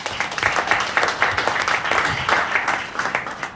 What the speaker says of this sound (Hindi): उनके लिए एक बार तालियां हो जाएं।